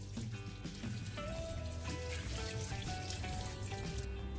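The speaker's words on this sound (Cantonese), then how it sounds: "我呢個係熱水喉嘅熱水嚟嘅，俾少少熱水咧洗一洗呢個火腿" Hot water from a kitchen hot tap running over Jinhua ham to rinse it before steaming, a steady splashing flow with dripping into the sink throughout, close and continuous, no talking.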